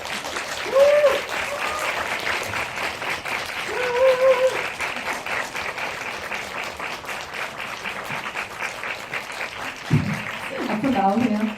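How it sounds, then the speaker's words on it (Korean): An audience applauds to welcome actors at an indie film talk event, a dense, sustained clapping throughout, with a voice or two cutting through near the start and a louder burst of clapping toward the end. "그럼 큰 박수로 맞이해주세요."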